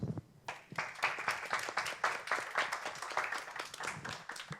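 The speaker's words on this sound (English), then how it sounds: "give you an applause" An audience gives a quiet, steady round of applause after an academic talk at a doctoral meeting on distributed quantum computing. The clapping sounds fairly distant and continues for several seconds.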